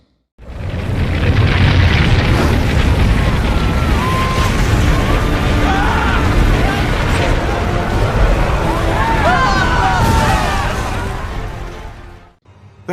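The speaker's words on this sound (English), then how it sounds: "Then the fire of the Lord fell, and consumed the burnt sacrifice, and the wood, and the stones, and the dust" A dramatized rendering of heavenly fire falling on an altar, a sustained roaring, rumbling blast that fills nearly thirteen seconds at steady high loudness with crackling detail, ending in an abrupt fade.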